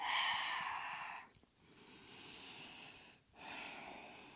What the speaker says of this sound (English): Just breathing in and breathing out. Nice deep breaths.